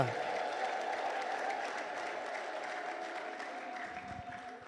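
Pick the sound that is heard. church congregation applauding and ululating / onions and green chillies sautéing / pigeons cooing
church congregation applauding and ululating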